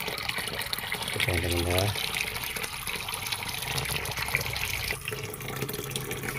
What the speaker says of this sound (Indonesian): kita kasih airnya yang banyak